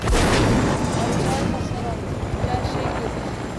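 A helicopter in the Fortnite video game roars with loud, dense rotor and engine noise that peaks at the start and stays steady, with players talking over it.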